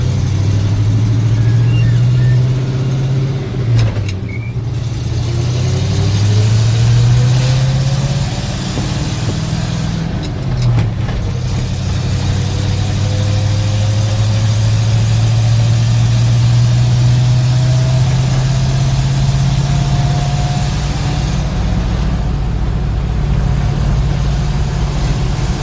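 A 1966 International Harvester 1300A one-ton pickup truck with a custom camper, driving on the road: a steady, loud engine drone rising in pitch through each gear, with brief dips at the shifts and faint cabin noise.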